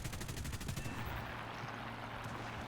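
Aircraft guns firing in the War Thunder video game, several rapid bursts in the first second, then trailing into a quieter engine drone, fairly faint overall.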